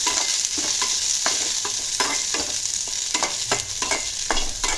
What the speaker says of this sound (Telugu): ఇప్పుడు గ్రీన్ చిల్లీస్ ఇంకా టామరెండ్ క్లోవ్స్ మూడు వేసేసి మంచిగా ఫ్రై చేసుకున్నాం